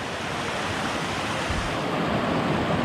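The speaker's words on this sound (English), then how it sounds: "She's doing a good job on the creek crossing." Creek water rushing during a hiking crossing in a snowy Georgia state park: a steady, close, full broadband wash of flowing water with no talk.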